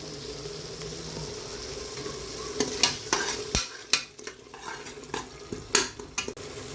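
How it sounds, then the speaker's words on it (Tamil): Aatu kaal kuzhambu, a goat trotter curry, simmers and sizzles in a pan while a spoon stirs it, giving a soft bubbling bed broken by close scraping and clinking strokes against the metal. "கொஞ்ச நேரம் வந்து கொதிக்கிட்டோம்"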